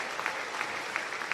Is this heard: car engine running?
no